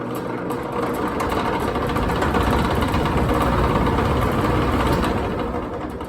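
A 2014 Maratherm air conditioner runs with its belt spinning and badly worn bearings, giving a loud, steady mechanical drone with a rough, rattling grind and no talking over it.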